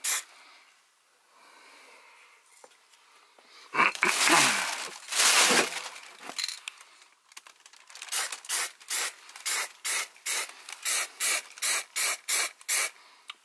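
A spray gun lays a thin coat of dense primer on an Audi A3 body, starting with a few longer hissing blasts, then settling into a steady series of short, evenly spaced spray bursts close to the listener.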